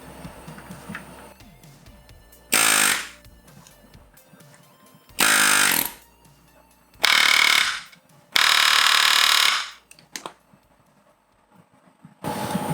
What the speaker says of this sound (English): we tried doing this with a rivet gun